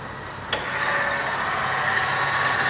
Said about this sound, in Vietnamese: Cục máy khá là êm ái.